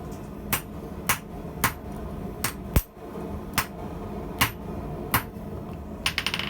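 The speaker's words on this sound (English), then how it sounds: "I've gone to using my 4-pound hammer, hoping to maybe move the material a little bit more quickly" Sharp metallic blows of a 4-pound hammer forging steel ring out at an irregular pace, about a dozen strikes, the last few coming in a quick flurry, close and clear.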